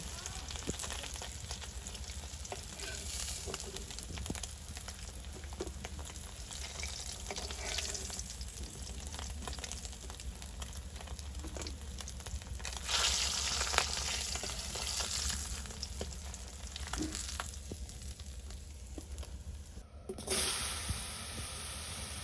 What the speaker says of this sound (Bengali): মাছগুলো বেশি কড়া ভাজি করবো না, মিডিয়াম ভাজি হয়ে আসলে মাছগুলো নিয়ে নিব